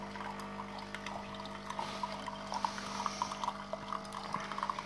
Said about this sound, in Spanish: Sale el agua caliente,